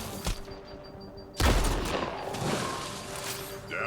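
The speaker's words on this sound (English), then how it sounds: "Who's shooting?" Gunfire in the video game Mass Effect: Andromeda, a sharp early shot followed by a loud burst of shooting that rolls into a sustained, echoing rumble of combat noise.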